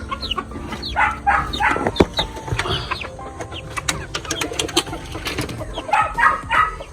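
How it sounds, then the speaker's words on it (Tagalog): Darag chickens cluck and murmur close by in short bursts while being fed, with scattered scratching and clatter in the background. "Papakain ko sa ating darag na manok."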